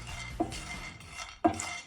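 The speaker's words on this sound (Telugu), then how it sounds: "ఫస్ట్ మనం పంకిన్ సీడ్స్ని" Pumpkin seeds dry roasting in a pan without oil, with a utensil scraping and stirring; two sharp metallic clinks stand out over a soft, steady rustle, close and fairly quiet.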